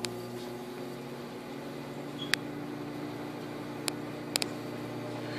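A microwave oven running with grapes on a plate inside, giving a steady low mechanical hum with a few faint clicks and crackles, no spark bursts, heard alone.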